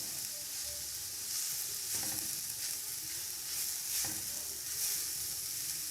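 Carrots and capsicum sauté in a pan for egg fried rice, a steady close sizzle with occasional scrapes and stirs of a utensil. No one talks over the frying.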